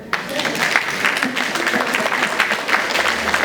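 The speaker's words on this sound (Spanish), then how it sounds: "pues un aplauso para él" A conference audience breaks into applause, a short burst of dense, close clapping lasting a few seconds.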